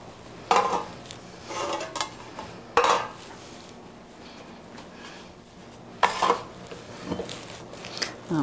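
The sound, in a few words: spooning stiff apple cinnamon batter into bread pans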